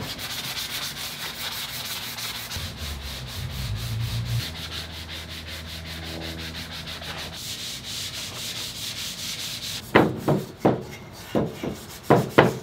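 Car body parts being scuffed by hand before primer on a Subaru EZ30R-swapped Porsche project, a soft steady rubbing and scraping, ending in a few sharper rhythmic strokes, with no talking.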